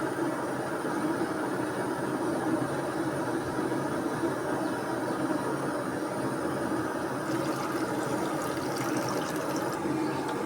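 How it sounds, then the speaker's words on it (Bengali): Rice is washed again and again in water for temple offering food, giving a steady, even sloshing and trickling wash that runs on without pause. "চালটাকে ভালো করে ধুয়ে নিতে হবে। ওই জন্যে বারবার জল দিয়ে ধুচ্ছে।"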